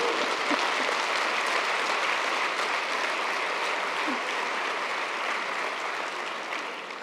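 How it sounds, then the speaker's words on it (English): A large conference audience at an education forum's opening plenary applauds steadily, a dense sustained clapping that stays loud throughout and tapers off slightly at the end, with no talk over it. "A round of applause to him."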